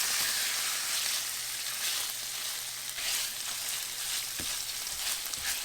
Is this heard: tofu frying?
yes